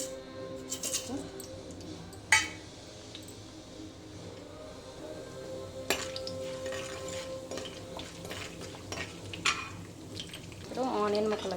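Hot oil sizzles steadily in a pan, with occasional sharp clinks and scrapes of stirring against the metal.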